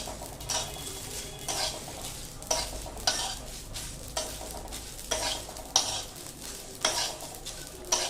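Masala and bay leaf roast in oil in a pan for restaurant-style mixed vegetable bhaji, a soft steady sizzle broken by repeated metal spatula scrapes and clinks against the pan, and no voices.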